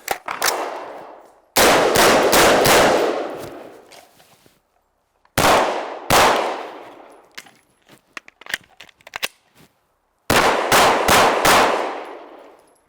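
Rifle shots fired in quick bursts during a timed shooting drill, loud sharp cracks with ringing decay, several clusters of rapid shots separated by pauses and faint handling clicks.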